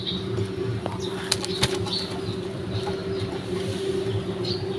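Pigeons flap their wings in short bursts over a steady low hum, with a few sharp flutters standing out against the continuous background.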